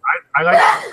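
A single sneeze bursts out nearby at the start, followed right after by someone speaking close up.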